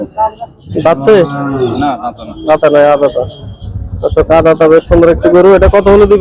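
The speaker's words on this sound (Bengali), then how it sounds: "এই গরুটি বেশ সুন্দর একটি গরু" Cattle at a village cattle market in Bangladesh, with a cow giving several loud, close moos amid crowd chatter and people talking throughout.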